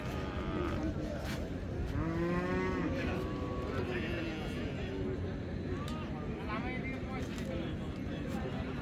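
Cattle moo at the Raniganj livestock market in Dinajpur, with a few long, drawn-out calls rising above a constant crowd murmur and people talking nearby.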